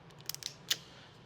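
Wires crimped into an orange IDC connector with a crimp tool, a few quick sharp clicks close up and faint, then one louder snap.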